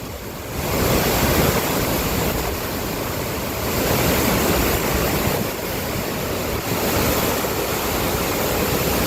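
Floodwater roars out through the 25 open gates of the Basavasagar dam on the Krishna River, a loud, steady, wind-buffeted rush that fills the clip without pause.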